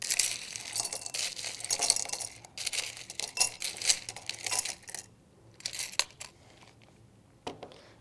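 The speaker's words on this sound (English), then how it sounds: "Start by filling a 400 milliliter beaker, approximately 1/3 full, with ice." Ice being scooped into a 400 milliliter glass beaker, a busy run of close, crisp clinks, rattles and crunches in irregular bursts that thin out toward the end.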